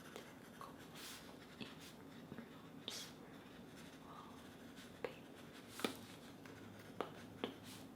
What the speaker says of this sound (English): Oh, I'm writing a lot on this one.